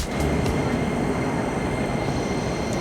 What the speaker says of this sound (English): There it is, there's a train now.